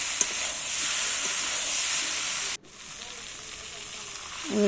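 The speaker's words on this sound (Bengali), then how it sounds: "ফুলকপিটা দিয়ে একটুখানি কষিয়ে নেবো মশলার সাথে।" Cauliflower fries with spice masala in a pan for a fish curry, giving a loud, close, bright sizzle that cuts off suddenly midway and leaves a much quieter hiss.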